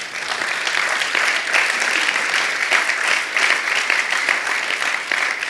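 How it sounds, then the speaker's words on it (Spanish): A church congregation at a Spanish-language service applauds in a sustained, even burst of many hands clapping, loud and close, running the whole length without pause. "Dele un aplauso al Señor por eso."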